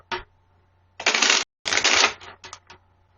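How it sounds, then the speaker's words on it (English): Tarot cards shuffled by hand in a few quick riffled bursts separated by short pauses, close and crisp in a quiet room. "I'm going to shuffle the cards 3 times"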